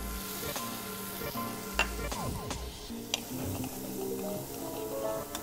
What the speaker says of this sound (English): we're going to pop in our onion just with a little bit of the remaining butter